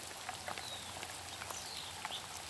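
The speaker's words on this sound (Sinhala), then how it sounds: "තාමත් වහිනවා මද වැස්ස." Light drizzle falling over a lake at Puwakpitiya near Habarana, Sri Lanka, a soft steady patter of fine drops with faint scattered taps and distant bird calls, no talking.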